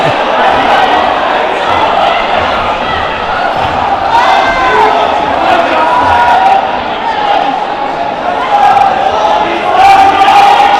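Boxing crowd at a WBC International Super Flyweight Championship bout, a dense, loud, sustained roar of cheering and shouting filling the arena throughout, with voices mixed into the din.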